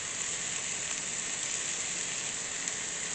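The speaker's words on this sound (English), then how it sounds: "So I've got the onion and garlic here, so now it's ready for the meat." Diced pork steak sizzling in a pan with onion and garlic makes a constant, even hiss with a bright, crackling texture, close and unbroken throughout.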